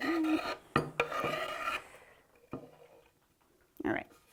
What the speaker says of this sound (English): I'm just going to kind of scrape off as much as I can.